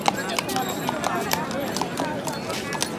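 Horse hooves clip-clop at an even walking pace on Mall Road in Shimla, a string of sharp knocks over a busy street murmur with people talking in the background.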